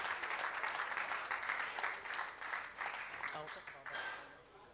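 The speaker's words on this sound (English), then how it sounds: "Please keep clapping." Audience clapping fills a forum hall at a book launch for a presidential candidate, a steady dense patter of many hands that fades slightly toward the end, with a voice briefly audible over it.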